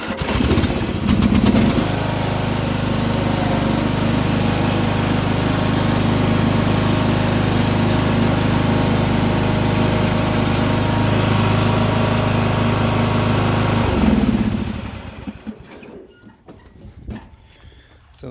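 A Yard Machines by MTD 16.5 hp, 42-inch riding mower engine starts and runs with a steady, loud buzzing drone for about thirteen seconds, then cuts off and winds down into quiet.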